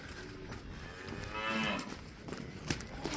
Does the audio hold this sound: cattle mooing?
yes